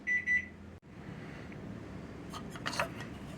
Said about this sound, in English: You can hear my timer going off.